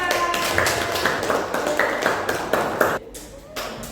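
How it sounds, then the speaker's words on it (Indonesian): Students in a classroom clap for a presenting group in quick, regular, patterned bursts for about three seconds, close and fairly loud, before the clapping stops abruptly and a voice continues over quiet room noise. "Tepuk tangan untuk tim 4."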